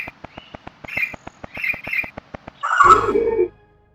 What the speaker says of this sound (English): We also hear birds chirping.